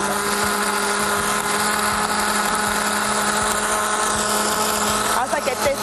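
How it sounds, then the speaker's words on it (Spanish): A kitchen blender whirs steadily while blending tomato cream soup, a continuous motor drone with a sharp change in pitch near the end as the load shifts. "Perfectamente vamos a licuar."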